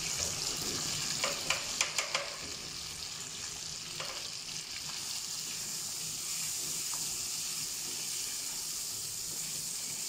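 Chicken tikka browning in a pan with garam masala and chaat masala, a constant hiss of frying broken early on by a quick run of clinks and scrapes, no talk.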